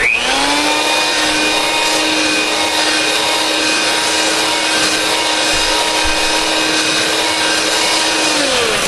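An electric hand mixer whips cream into stiff peaks in a home kitchen, giving a steady, loud, high-pitched motor whine that holds constant throughout and dips slightly in pitch near the end.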